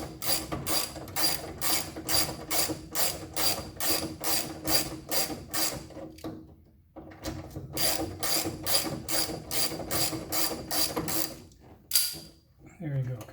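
A ratchet clicks in rapid bursts while backing nuts off the driver's door window of a 1977 MGB roadster, two long runs of close, crisp ratcheting separated by a brief pause.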